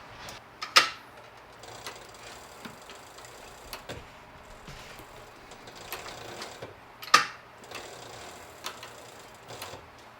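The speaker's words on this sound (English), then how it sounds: "This is the largest industrial sewing machine that I know that exists for doing this kind of thing." A very large industrial sewing machine stitches through leather with slow, irregular mechanical clunks and ticks, two sharp louder punches standing out among quieter whirring between stitches.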